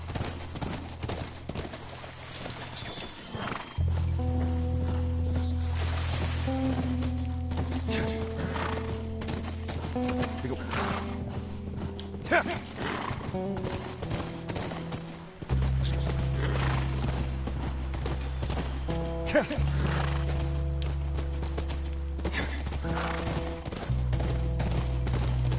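A horse in The Last of Us: steady clip-clop of hooves throughout, with a neigh and tonal game music layered on top, fairly close and clear, and no talk.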